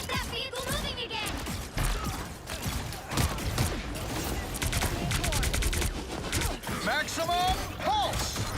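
Energy-weapon pulse cannons firing in the online game Ultima Online Outlands: a dense, continuous barrage of rapid blasts and mechanical clatter with rising electronic zaps near the end, loud throughout.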